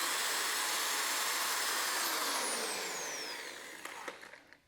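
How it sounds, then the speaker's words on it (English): A close power drill bores a pilot hole in scrap wood with a sustained whirring grind that fades toward the end, followed by a few light knocks. "Drill the pilot hole"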